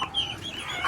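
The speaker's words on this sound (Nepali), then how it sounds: "उहाँको चाहिँ यहाँ भाले छ एउटा भाले र पोथीहरू छ" A rooster and hens on a small farm give a brief burst of clucking, fairly close and moderately loud.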